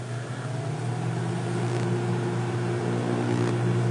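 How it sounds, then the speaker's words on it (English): A microwave oven hums steadily while powered by a Jackery Explorer 1000 portable power station, drawing roughly 800 to 900 watts. The drone is even and moderately quiet, with no talking. "a Jackery has no problem running this microwave"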